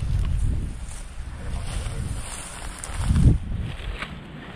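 Gusty wind buffets the microphone beside a boat on the water, with low rumbling blasts swelling and fading and a stronger gust near the end.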